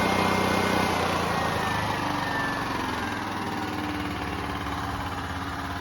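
A Generac XT8000E home generator's engine runs loud and steady, a constant mechanical drone with slight vibration that eases off a little toward the end.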